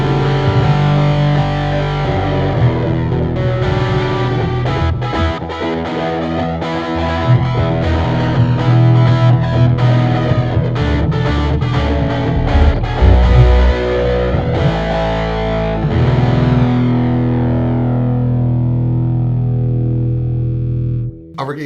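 Heavily processed electric guitar through a Boss OC-5 octave pedal and HX Stomp plays continuously, distorted and layered with modulation and reverb, loud and dense before cutting off at the end.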